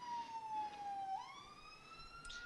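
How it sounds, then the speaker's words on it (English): A police siren sound effect gives one long gliding wail that dips and rises again, fairly faint and alone against quiet background hiss. "There's a police siren coming from inside the room."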